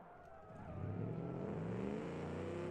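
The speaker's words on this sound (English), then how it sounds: "Nice engine sound." A virtual SUV engine in the BeamNG driving game revs up from a low idle into a sustained, rising drone with clear harmonic layers, loud and continuous with no talking.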